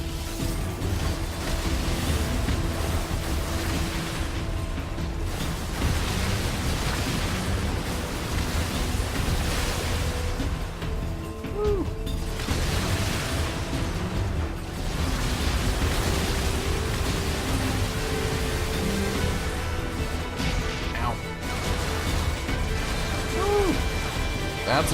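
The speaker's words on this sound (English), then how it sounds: "Lots of explosions going on." Continuous explosions and crashing blasts in the action game NieR: Automata, a loud, dense roar of booms and debris surging in waves with no pause throughout.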